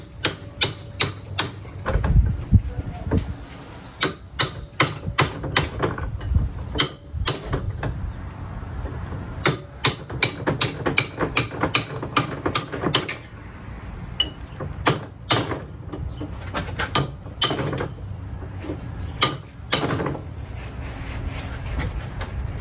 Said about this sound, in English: Okay, so removing the front sway bar bushes.